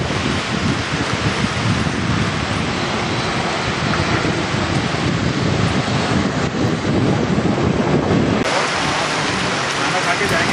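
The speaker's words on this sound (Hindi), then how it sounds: "बहुत तेज बारिश की शुरुआत हो गई अब।" Heavy rain pours onto a cricket ground during an under-17 tournament match, a dense, continuous roar of downpour, close and loud for the whole stretch.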